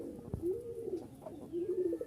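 A male Giribaz pigeon in breeding heat coos repeatedly, a low rolling call close by with a sharp tap near the start, no voices.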